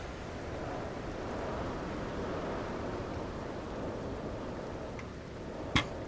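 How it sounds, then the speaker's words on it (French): Steady heavy rain hisses through a thunderstorm in No Man's Sky, a constant wash with a sharp, loud thunder crack near the end and no one talking. "Tempête."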